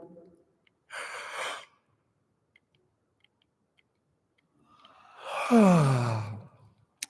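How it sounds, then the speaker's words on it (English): A big, drawn-out human yawn at the end of a jaw-opening fascial exercise, rising and falling as one breathy, voiced exhale after an earlier softer breath, close and alone in a quiet room. "End with a really big yawn."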